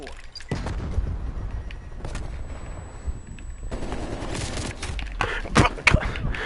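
Gunfire in Call of Duty Cold War Zombies, a mix of scattered shots and rapid bursts amid busy game noise, growing denser and louder toward the end.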